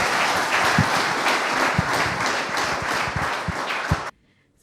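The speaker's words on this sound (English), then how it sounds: "Please clap for him again." An audience at Carnegie Mellon University claps for Kenya's President William Ruto, a dense, loud round of applause with a few sharp close claps that stops abruptly.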